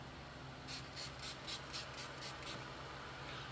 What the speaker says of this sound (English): And I am going to use my daily facial spray.